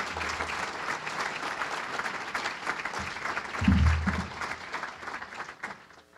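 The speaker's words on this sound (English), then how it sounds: "So give them a round of applause." An audience at a centennial celebration applauds in a sustained, full round of clapping from many people, steady for several seconds, swelling slightly midway and then fading out near the end.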